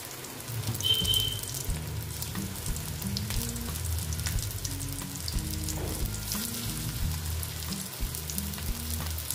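Malabar spinach (pui shak) pakora fritters fry in hot oil with a continuous close sizzle and crackle, plus a brief clink near the start and no speech.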